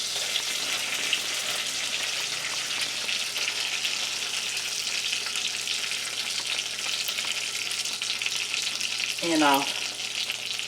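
Butter and brown sugar sizzle in a hot pan for old-fashioned caramel icing, a steady, fairly quiet frying hiss throughout, with a brief voice near the end.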